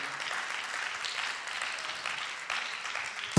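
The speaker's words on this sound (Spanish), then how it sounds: "Denle ese aplauso fuerte al Señor" A church congregation applauds during a Spanish-language sermon, a steady wash of many hands clapping at even loudness throughout, ending in a brief louder thump.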